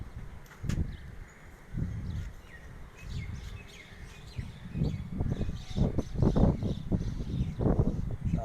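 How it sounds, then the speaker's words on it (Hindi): Pigeons land on a rooftop loft, with soft wing flutters and thumps near and far, scattered light chirps, and rustling that grows busier toward the end over quiet background noise. "उन्होंने जी चौथा कबूतर आया जी।"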